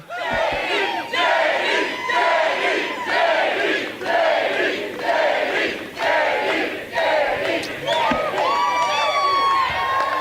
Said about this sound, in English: We've got a hell of a crowd in the state of Michigan